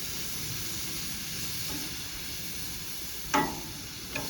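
Beef short ribs sear on a hot smoker grill, giving a steady low sizzle and hiss throughout with a couple of brief sharper crackles near the end, and no talking.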